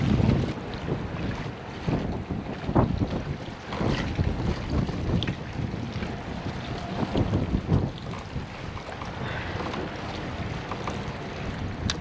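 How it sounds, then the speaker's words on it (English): Strong wind buffets a small fishing boat out on the water, a steady roaring gust with rumbling microphone noise and wave wash throughout, loud and continuous with no talking. "Was not expecting the wind to be like that."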